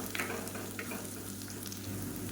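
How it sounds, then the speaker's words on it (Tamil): Chilli powder sautés in oil for a Tamil kulambu, a short steady sizzle with faint stirring scrapes, quiet and close with no talking. "இது வந்து எண்ணெயில் வதக்கி விட்டுக்கலாம்"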